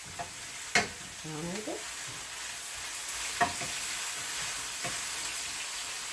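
Summer squash frying in a pan of oil gives a steady, soft sizzle throughout, with a few sharp clinks of a utensil stirring against the pan and a brief voice heard near the start.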